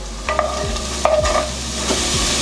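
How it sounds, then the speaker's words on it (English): Mushrooms sautéing in a pan after onions, with a steady sizzle under a few scraping stirs and a brief clink, close and fairly loud. "Now we're going to go ahead and add in our mushrooms. We're going to let these cook down a little bit."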